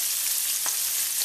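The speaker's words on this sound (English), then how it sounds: "continue frying until they're all done." Flour-coated marinated sardines pan frying in oil give a steady, close hiss of sizzling throughout, with a soft brief clink partway through and no voices.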